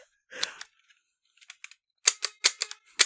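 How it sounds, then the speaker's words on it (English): Plastic Duck Hunt toy guns being clicked by several people, with sharp dry trigger clicks, scattered at first and then coming in a quick run of loud, close snaps. "Just people clicking toy guns for about 10 seconds"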